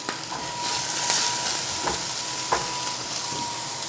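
Chopped green onion going into a hot pan, a steady sizzling hiss with a few sharp crackles and scraping stirs scattered across it, fairly close and with no one speaking.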